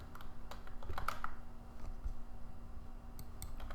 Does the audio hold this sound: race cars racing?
no